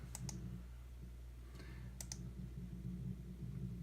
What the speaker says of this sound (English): now we click on print